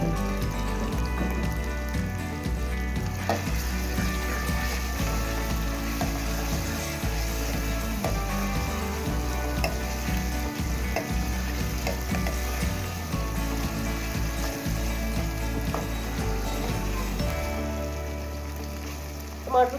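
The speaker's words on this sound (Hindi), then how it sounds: "टमाटर को नरम होने तक पकाएंगे" Finely chopped tomato and green chilies frying in a pot while cooking mash dal, a loud continuous close sizzle with occasional stirring scrapes, cutting off near the end.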